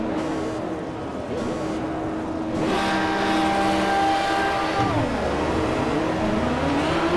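Race cars roar off the line at a race start in the Project CARS video game, engines revving and climbing in pitch as the field accelerates, loud and continuous with no talk.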